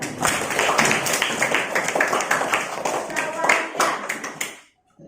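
Classroom students clapping together for a classmate, a dense burst of many hands under a lively room with some voices, continuing for several seconds and then stopping abruptly.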